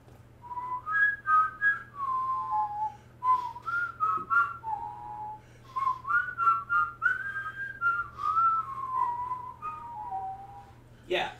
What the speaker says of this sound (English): he just whistles the Orbnica theme